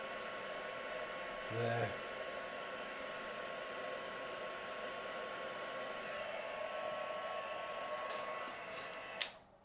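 Heat tool blowing steadily as it melts embossing powder on a spring greeting card, a continuous airy whoosh running the whole time, with a brief spoken word near the start and a sharp click near the end.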